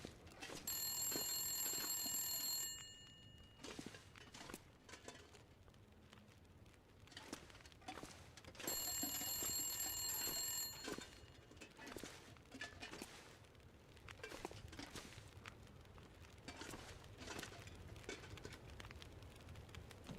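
In the survival game The Long Dark, an old telephone rings in two separate bursts, each lasting a few seconds, with quieter footsteps and shuffling movement between them.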